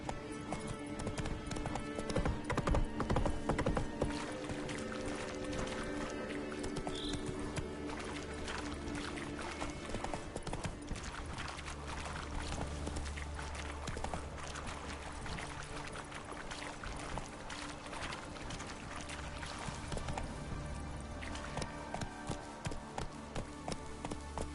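Hoofbeats of Geralt's horse Roach in the video game The Witcher, a steady clip-clop rhythm running throughout under game ambience and occasional faint voice.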